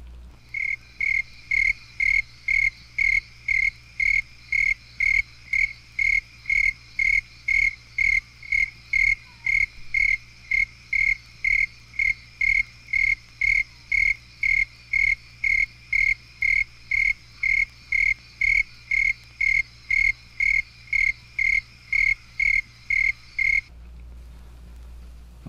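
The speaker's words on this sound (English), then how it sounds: "The snowy tree cricket is a bush inhabitant. Frequently, several individuals will be heard singing at once," Snowy tree crickets sing in perfect synchrony, a steady pulse of clear, evenly spaced chirps about twice a second for over twenty seconds before stopping, with a faint low hum beneath and no voices.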